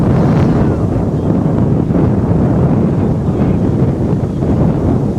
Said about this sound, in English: All of a sudden, the wind has really picked up here.